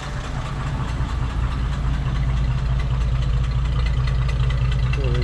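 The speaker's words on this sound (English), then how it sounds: "Engine runs and sounds as it should. Nice inline 6-cylinder." A 1956 Dodge C-4-B half-ton pickup's inline six-cylinder engine idles steadily and close by, a smooth even rumble with a faint rhythmic knock, running alone without talk.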